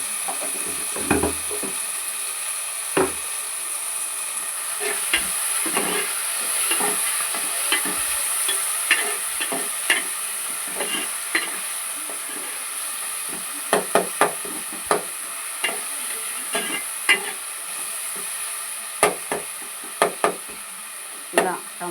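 Ingredients with turmeric being stirred and mixed in a pan for a ridge gourd, egg and tomato dish, a soft ongoing sizzle broken by frequent sharp scrapes and clacks of the spoon against the pan, close and irregular, with no talking.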